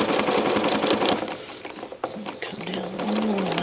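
A sewing machine doing free motion quilting on a grid-based whole cloth design runs in a steady, fast stitching patter, close and loud, with a brief slowdown midway before picking back up.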